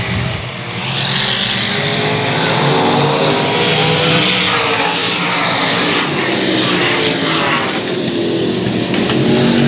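Race cars roar around the oval at Central Texas Speedway, a dense, loud wall of engine noise with overlapping revving and pitch sweeps as the pack charges through a turn.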